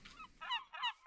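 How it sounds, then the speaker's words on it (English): Seagulls in modded Minecraft give three or four quick, harsh honking squawks in close succession, near and clear with no talking. "These seagulls are stealing my bread."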